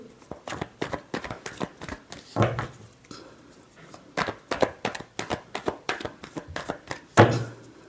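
Tarot cards shuffled by hand in quick, repeated riffling bursts at close range, crisp and rhythmic with brief pauses between them.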